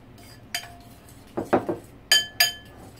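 Ceramic plates and dishes clink while braised pork ribs with black bean sauce are plated in a home kitchen: several sharp, bright clinks and a duller clatter in the middle, close by with no talking.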